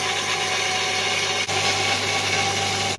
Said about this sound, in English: I think I've got it about as close as I can now with the belt sander